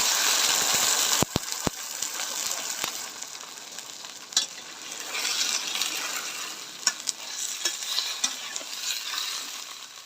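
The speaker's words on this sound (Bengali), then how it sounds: "এবার অল্প একটু জল দিয়ে দেবো।" Raw mango pickle, sweet, sour and spicy, sizzles loudly and steadily in a pan as water goes in, with sharp clicks of a stirring utensil against the metal scattered throughout.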